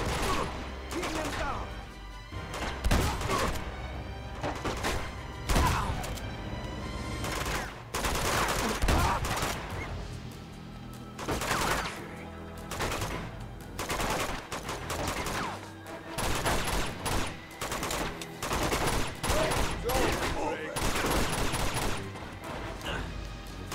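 Rapid bursts and single shots of gunfire from the video game Uncharted 2: Among Thieves, dense and continuous for the whole stretch, with occasional heavier impacts and talking mixed underneath.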